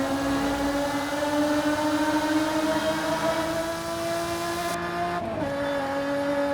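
A Lotus Emira with a Toyota-sourced V6 engine drones loudly and steadily inside a tunnel in Forza Horizon 5, its pitch climbing slowly before a brief dip and recovery that suggests a gear change.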